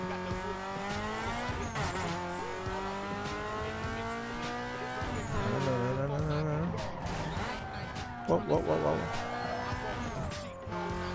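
A tuned car in Need for Speed Underground 2 revs and screeches its tires, with whining engine tones rising and falling continuously under game music and someone speaking.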